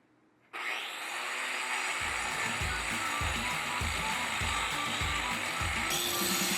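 Angle grinder fitted with a dust shroud, its vacuum unplugged, spins up with a loud steady whine and keeps running for several seconds, with a rhythmic rasping, grinding pulse underneath, heard close.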